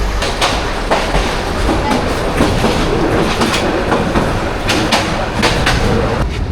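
An almost empty Bangladesh local train runs steadily, with a continuous loud rumble and rhythmic clickety-clack of wheels over rail joints throughout.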